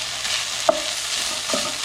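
Peppers and onions frying in a pan, a close steady sizzle with a few sharp clinks and scrapes as they are stirred.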